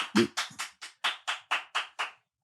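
Nine sharp hand claps in a steady, slightly uneven rhythm, close and fairly loud, ringing alone with no talk, from a single person applauding.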